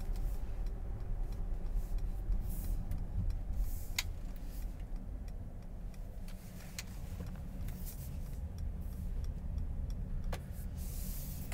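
Mercedes car driving steadily and resuming cruise control to accelerate back to 30 after a roundabout, a continuous low engine and road rumble with a few faint clicks heard from inside the cabin.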